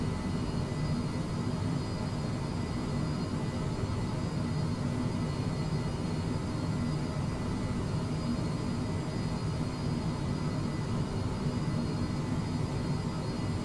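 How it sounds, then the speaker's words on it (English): Steady low engine rumble from an MD-11 airliner taxiing in Microsoft Flight Simulator 2020, a continuous, even drone with no breaks. "I'm gonna go ahead and just continue to taxi the plane to the runway"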